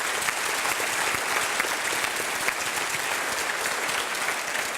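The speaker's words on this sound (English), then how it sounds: "please join me in a round of applause for the Clarkson School staff." An audience at a school commencement ceremony applauds the school staff in a sustained, even roar of many hands clapping, full and steady throughout with no speech over it.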